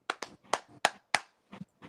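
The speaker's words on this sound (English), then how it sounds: "So that's the soul clap." A soul clap: a handful of sharp, close hand claps in a loose, syncopated rhythm, about eight quick hits over two seconds with short gaps between them.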